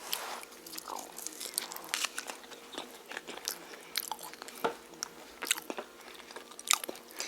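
Someone eats a KFC hamburger up close, with crisp biting crunches and moist, irregular chewing that carry on steadily over a quiet background.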